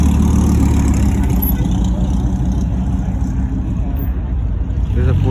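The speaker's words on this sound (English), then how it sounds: "Oh, another Viper." A Dodge Viper rumbles at a car meet, a loud, low, steady engine drone throughout, with people's voices faintly mixed in.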